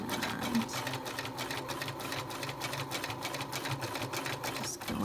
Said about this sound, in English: I'm stitching, back tacking